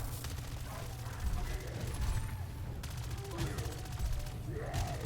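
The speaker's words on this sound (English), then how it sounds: "And you can see this is the new SMG. I haven't even got the new mag in it yet, and the fire rate is obscene." Rapid SMG fire in Call of Duty Modern Warfare III Zombies, dense bursts of fast repeating shots over a low game rumble, with faint talk underneath.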